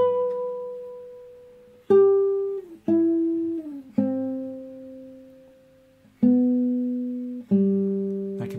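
Single-note classical guitar melody, played alone as six sustained plucked notes, each ringing out and fading before the next, close and clear.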